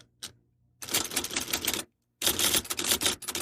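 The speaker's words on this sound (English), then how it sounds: "cue the typewriter noise" Typewriter keys clatter in two dense bursts after a single early strike, a brief silence separating them, close and loud with no voices, opening an episode of a reading and writing podcast.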